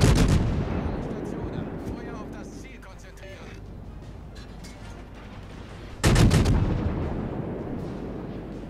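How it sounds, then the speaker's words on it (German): Naval artillery salvos booming and shells crashing down in the warship battle game World of Warships: a heavy blast at the start decays slowly, then a second loud salvo erupts later, with someone speaking over the rumble. "Die nächsten Granaten kommen runter"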